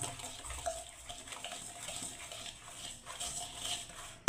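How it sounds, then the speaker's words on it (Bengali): Water is poured into gram flour batter and stirred in while mixing it for pumpkin leaf fritters, a faint, soft wet sloshing that continues throughout. "এবারে আমি ভালোভাবে এই বেসনটাকে একটু একটু করে জল দিয়ে আমি বন্ধুরা ঘাঁটতে থাকবো"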